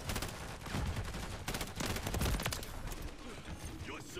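Bursts of automatic and single-shot gunfire from a shooter video game aimed at teammates rattle continuously, fairly quiet and distant, with mechanical clicks mixed among the shots.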